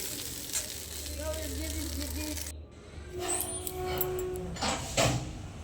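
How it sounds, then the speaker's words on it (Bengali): Maggi noodles fry in a pan with a soft, close sizzle and some stirring, a low hum under the first half, then brighter clattering bursts near the end. "দেখতেই পাচ্ছি এখানে ম্যাগি ভাজা হচ্ছে"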